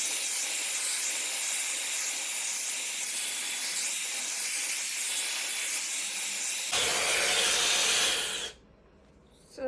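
A Shark FlexStyle hair dryer running, a loud steady airy whoosh that rises in force near the end before cutting off abruptly, with no speech.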